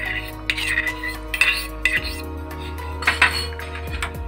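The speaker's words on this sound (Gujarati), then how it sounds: "એક ડુંગળી નાખશું," A chopped onion goes into a bowl of rawa chila batter, making close clinks and scrapes of a spoon against the dish. Faint speech is heard under them.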